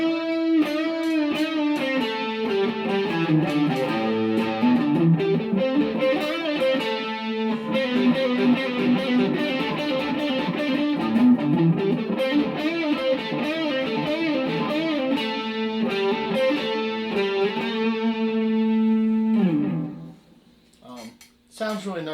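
A distorted 2002 Epiphone Les Paul Standard electric guitar plays a continuous, winding lead melody with bending notes, loud and up close, ending abruptly near the finish.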